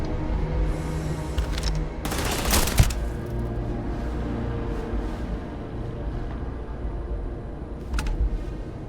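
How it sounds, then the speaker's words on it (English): A short burst of gunfire in the sci-fi game Starfield crackles through a dense, steady game soundscape, with a fainter volley later on. The shots sound somewhat distant and come without any talk over them. "Somebody's shooting, but I'm not even close to where they are."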